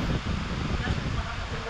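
Steady, rushing wind noise buffets the microphone with a low rumble, continuous and fairly loud throughout, with no other distinct sounds.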